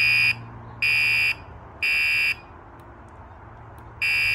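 A buzzer alarm on a custom 120V/24VAC/24VDC electrical control box sounds in four steady, piercing beeps about half a second long, evenly spaced with short gaps over a low background hum.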